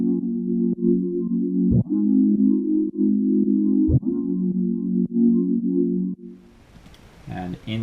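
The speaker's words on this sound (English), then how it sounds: "a nice little pad sound, and that's called the liquid pad" A soft liquid pad synth in a future funk and soul track holds sustained mid-range chords, with two faint clicks partway through and a brief burst of other instruments near the end.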